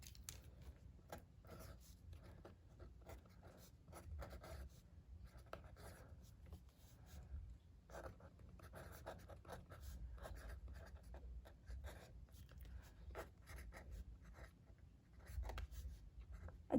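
A pencil writing on paper while a bay horse colour study is drawn, with close, continuous scratching strokes and short pauses, quiet and without speech.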